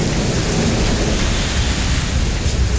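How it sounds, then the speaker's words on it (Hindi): Heavy rain pours steadily during an unseasonal storm in Delhi, with a deep rumble of thunder rolling beneath the dense, constant hiss for the whole stretch. "आसमान से आती गरजना ने दिलों में खौफ भर दिया।"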